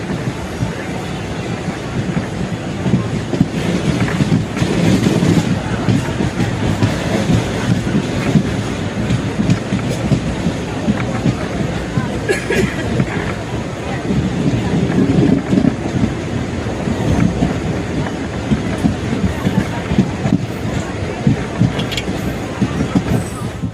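Passenger train rolling into Sirkazhi station in Tamil Nadu, with a steady loud rumble and rhythmic clatter of wheels on rail joints throughout, plus occasional faint squeals and wind.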